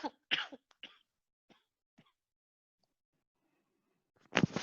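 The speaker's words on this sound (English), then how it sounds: "I'm having a bad cough." Someone with a bad cough hacks several times in quick, close bursts, then goes quiet for a couple of seconds before another harsh coughing fit, with no talk.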